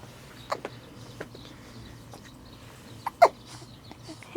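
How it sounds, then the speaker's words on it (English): A five-week-old baby gives a few soft hiccups, short isolated catches spaced irregularly, the clearest near the middle and end, faint against quiet room background with no talking. "Hiccup."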